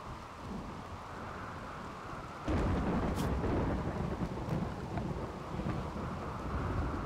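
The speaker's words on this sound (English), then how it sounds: "Our first bit of rain." Steady rain hisses in the RimWorld video game, then at about two and a half seconds a deep thunder rumble swells and rolls on beneath the continuing downpour, with no voices over it.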